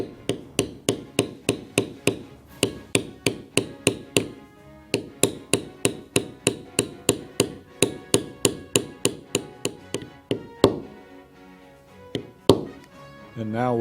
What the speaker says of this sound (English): We're now ready to do our beveling.